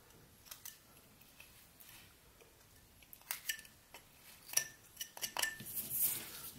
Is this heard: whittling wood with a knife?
yes